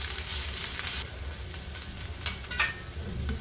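Ginger, garlic and finely chopped green chillies sautéing in a pan, a steady close sizzle and frying hiss with light stirring scrapes throughout.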